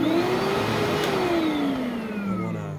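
A Bissell Little Green carpet cleaner motor runs close by, a loud, steady whine that slowly falls in pitch as it winds down.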